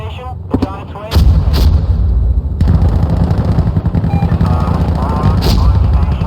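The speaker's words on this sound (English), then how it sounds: "Can Warlock do a gun run at this target?" An air support gun run strikes in the video game Insurgency Sandstorm. A sudden loud boom opens a sustained, heavy rumble of rapid cannon fire and impacts, with short radio-style voice chatter before and during it.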